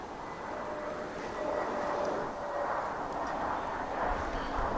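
A plane takes off at DFW Airport, a steady, fairly distant jet roar that swells slightly and holds for the whole stretch with no talk over it.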